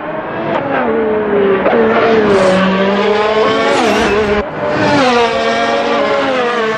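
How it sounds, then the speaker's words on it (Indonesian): An F1 race car revs hard, its high engine whine rising and falling loud and close, while tires squeal sharply. There is a brief dip in the middle before the roar returns. "Widih, ada mobil balap F1."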